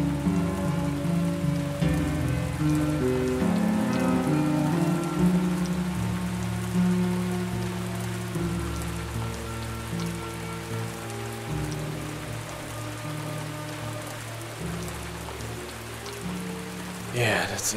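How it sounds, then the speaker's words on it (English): Steady video game rain patters over a backdrop of sustained synthesized music tones, with the downpour fairly loud and continuous throughout. "Oh, the rain is getting stronger."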